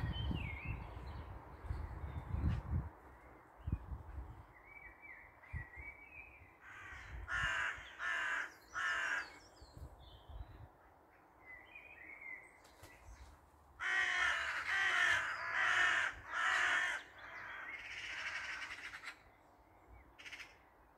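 Several crows and magpies fight over a tree, cawing in loud bursts of repeated harsh calls, with quieter rustling and distant squawks between the outbursts.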